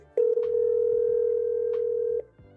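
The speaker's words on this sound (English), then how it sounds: "It's ringing my cell phone now." Outgoing call tone from a real estate CRM dialing a cell phone, a single steady electronic tone holding for about two seconds, clean and close with no voices.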